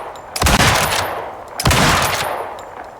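A rifle firing regular rounds in the survival game Icarus, two loud close shots about a second apart, each with a ringing tail fading out.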